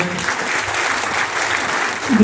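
An audience at a felicitation event claps together in a dense, even round of applause that holds for a couple of seconds. A voice is heard briefly near the end.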